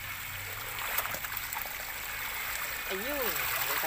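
Water draining from the outlet of a round backyard fishpond with a recirculating system, a steady close trickling and gurgling flow, with a voice speaking briefly over it.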